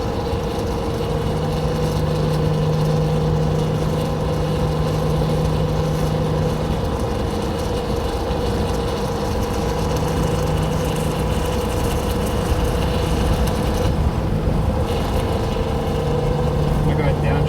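A 1962 GM 4106 bus conversion drones along under load, its engine a steady low hum with a faint pitch change partway through as the driver downshifts, a continuous cabin-level rumble without talk.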